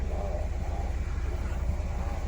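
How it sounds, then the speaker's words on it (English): A Hyundai car engine idles just after start-up, a steady low rumbling hum close to the microphone with no variation over the short stretch. "Car started up, you can see there."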